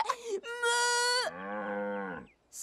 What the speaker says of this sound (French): Ça vient de là? Les tracteurs, ça fait meu? Non, mais les vaches, oui.